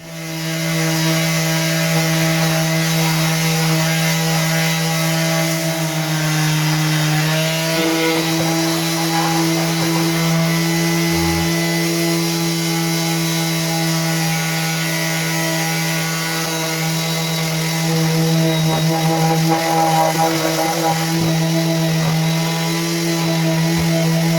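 A power sander drones steadily and loudly on wood for the whole stretch, a continuous buzzing grind with slight shifts in pitch.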